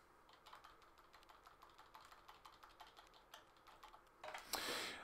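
Computer keys are pressed in a quick, quiet stream of light clicks at an even typing pace, ending with a brief louder rustle.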